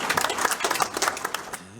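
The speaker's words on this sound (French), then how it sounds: "Alors on va applaudir le Serge Sabreli d'Achempao, qui va nous parler des rugby." A small audience applauds a speaker at an evening event about rugby, with a fairly quiet, dense patter of many hands clapping that fades out at the end.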